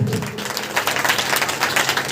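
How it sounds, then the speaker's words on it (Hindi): Church congregation at a Sunday service clapping hands in praise to God, a dense, steady wash of many hands close by, continuous through the short moment with a faint voice underneath. "ताली बजाकर परमेश्वर को।"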